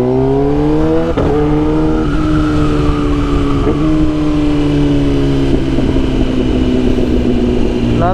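A sport motorcycle, a Kawasaki ZX10R or Honda CB650R, revs hard and climbs through first, second and third gear with rising engine pitch and brief dips at each shift, loud and close, then drops back a gear.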